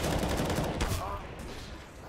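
Gunfire from a Counter-Strike esports match, a rapid burst of shots followed by a sharp crack, loud and dense, then fading under game ambience.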